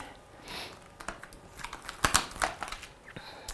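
Paper stamp pieces are peeled off a sheet, making a run of close, quiet crinkles and crisp little crackles and snaps at an uneven pace, with no talking.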